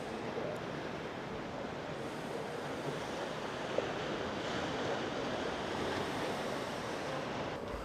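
Sea waves at Benidorm, a continuous soft wash of surf mixed with wind buffeting the microphone, steady and moderately loud with no talk.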